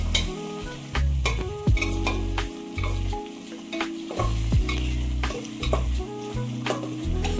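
Bitter gourd sizzles in a pan with garlic tempering while a utensil stirs and scrapes through it in repeated strokes, close and steady.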